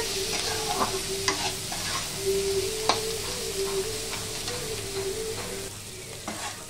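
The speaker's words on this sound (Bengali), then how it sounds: "এবার সবগুলো খুব ভালো করে ভেজে নেব।" Potatoes with turmeric and ground coriander fry and sizzle in a pan, a steady close hiss broken by repeated scraping stirs of a spatula, with no talk.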